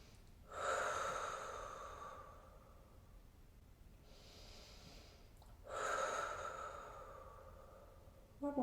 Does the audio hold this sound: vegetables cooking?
no